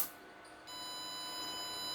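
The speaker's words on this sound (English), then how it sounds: "pay attention to the sound that will start emitting a buzzer sound as an alarm" A buzzer alarm triggered by the gas sensor on a Unity board emits a steady high-pitched electronic tone, faint and continuous once it switches on over a soft background hiss.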